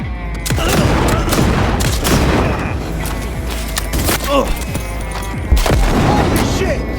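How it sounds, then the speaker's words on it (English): Enemy gunfire in the Cyberpunk video game fills a busy combat scene, with sustained bursts of automatic shots, heavy booms and impacts close by and loud throughout, while a voice talks over the fighting. "Enemy contact! They're opening fire!"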